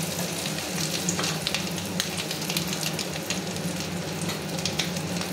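Fish roe fries in a pan with a steady, close sizzle and light crackling that hold at an even level throughout, with no talking.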